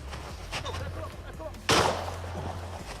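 A single shotgun shot cracks out sharply during a pheasant hunt, loud against a quieter outdoor background with some low murmuring before it and a short decay after.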